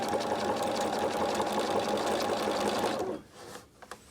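Sewing machine running steadily for about three seconds, edge stitching along a pants back pocket with the presser blade butted against the pocket edge; close and continuous, then stopping abruptly with a few faint handling taps after.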